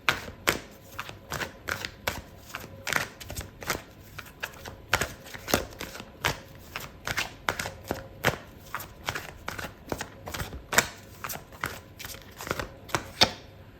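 A deck of tarot cards being shuffled close by, a steady run of crisp riffling flicks and soft slaps repeating for about fourteen seconds with no talking.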